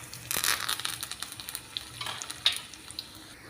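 Mustard seeds, cumin, green chilies and red chilies frying in hot oil for tomato rasam, giving a crackling sizzle with a loud burst of spattering early on that settles into steady popping and hiss, heard close with no talk.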